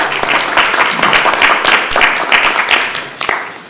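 Applause from an audience in a council chamber: a steady, dense patter of many hands clapping at once, fairly loud, with no talk over it.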